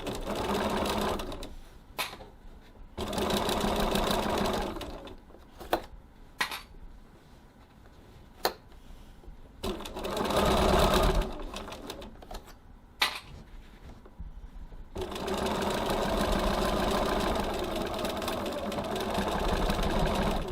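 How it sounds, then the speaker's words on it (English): A sewing machine stitches the corners of a tote bag at a 2.6 stitch length, in long steady whirring runs separated by quiet pauses and sharp clicks as the fabric is adjusted. "now we're going to stitch our corners"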